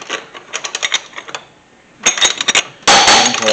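A wrench works on a Mustang valve part with rapid, close metallic ratcheting clicks in two bursts, followed by a louder grinding rasp at the end, no voices.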